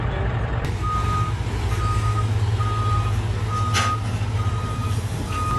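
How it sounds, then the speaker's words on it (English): A truck backs onto a barge in the San Juan Islands, its reversing alarm beeping steadily in an evenly spaced series over a loud low engine rumble and outdoor background. "He just backed that truck straight onto the barge."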